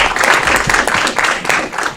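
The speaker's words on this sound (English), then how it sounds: "So give him a round of applause for bringing that check." Brief, loud burst of audience clapping for a congressman who brought a $1 million federal funding check to Aurora, close and full for two seconds.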